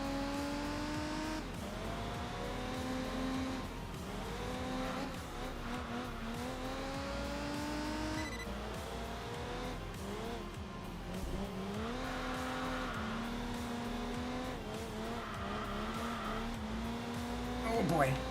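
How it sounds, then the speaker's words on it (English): A high-revving V6 race car engine in the video game Enthusia Professional Racing screams continuously, rising and falling in pitch through gear changes, with faint voices underneath. "It sounds like a high revving V6. Like a very aggressive V6."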